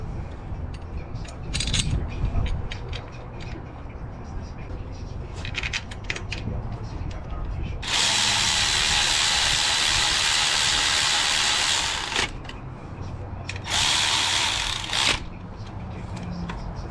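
A power tool tightening the idler pulley mounting bolt on a K20/K24 engine swapped into an EG hatch gives two loud, harsh hissing bursts, one about four seconds long and a shorter one after it, among nearby clinks and speech.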